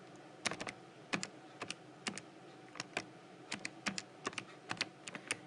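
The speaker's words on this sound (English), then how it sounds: "on my calculator I'm typing in 1/3 minus 1/8" Quick taps on a calculator keypad, close and crisp, in irregular bursts of clicks over about five seconds against a faint background hiss.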